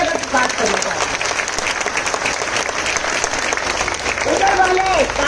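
An audience at a campus talk claps continuously and fairly loudly for several seconds, a dense steady wash of applause with voices faintly mixed in.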